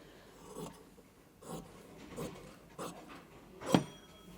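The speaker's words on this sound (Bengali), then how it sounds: "তো এবার আমার সম্পূর্ণ ব্লাউজটা কেটে নেই" Scissors cut through blouse fabric at a tailor's table in a series of soft, separate snips about once a second, close and quiet, with the last cut the loudest.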